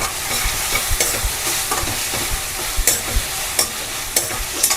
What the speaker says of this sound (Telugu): వేసి చక్కగా పచ్చివాసన పోయేలాగా కలుపుకోండి